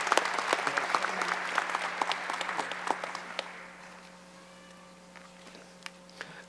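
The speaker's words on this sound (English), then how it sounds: "Please join the Dean in a round of applause for all our doctoral degree recipients." An indoor audience at a university commencement ceremony applauds doctoral degree recipients with dense clapping that fades after a few seconds into scattered claps.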